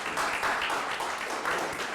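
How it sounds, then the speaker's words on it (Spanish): Brief applause from an audience at a Java meetup in Buenos Aires, a soft, steady wash of clapping heard from a distance for about two seconds. "un aplauso para la gente de vuelos que nos hizo de un post"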